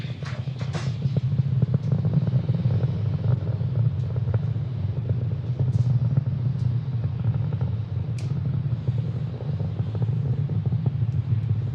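A SpaceX Falcon 9 rocket carrying a GPS III satellite climbs at full power, a steady distant roar with wind buffeting and a few faint crackles, no voices.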